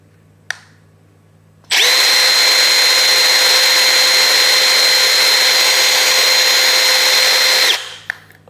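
A Milwaukee M12 Fuel Gen 3 brushless 12V impact driver at speed 3 (3750 RPM) drives a roofing screw, producing one loud, continuous high-pitched whine lasting about six seconds, with small clicks just before and after.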